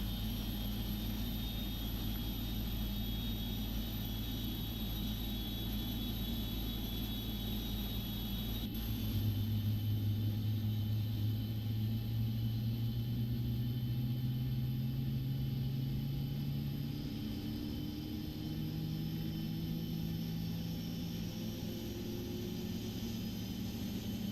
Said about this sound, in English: listen to those engines, or at least that number 1 engine, spool up